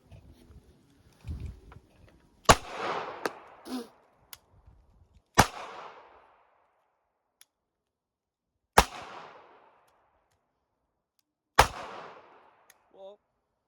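A Ruger LCP MAX pistol, caked with dirt in a torture test, fires four single sharp, close shots spaced a few seconds apart, after a brief burst of talk and handling noise.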